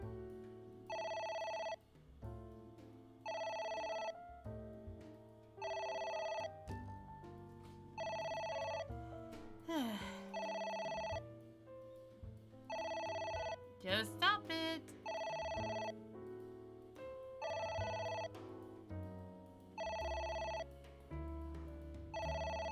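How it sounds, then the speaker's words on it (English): A video-game telephone rings repeatedly in a steady pattern of bright electronic bursts separated by short gaps. It is moderately loud and continues through the stretch, with brief other sounds and some talk in between. "It's ringing again."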